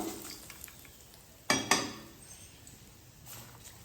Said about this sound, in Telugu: ఇప్పుడు ఈ తాలింపుని దీంట్లో వేసేసుకోండి అన్నంలో